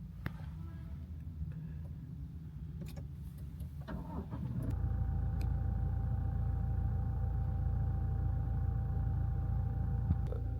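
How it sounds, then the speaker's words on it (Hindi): An automatic car's engine starts up, turning over and catching before settling into a steady, smooth idle rumble with a faint hum, heard close and alone. "गाड़ी स्टार्ट कर लेते हैं"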